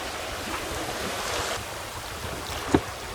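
Fully reefed sailboat under autopilot running in a small following sea along a remote coast, with a steady rush of waves and wind noise around the hull and a single sharp knock near the end.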